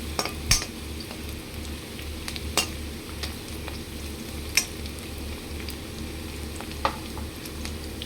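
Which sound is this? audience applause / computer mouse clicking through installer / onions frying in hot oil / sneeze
onions frying in hot oil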